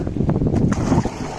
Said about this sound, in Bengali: দেখুন এখন নৌকাটি দারুণ চলছে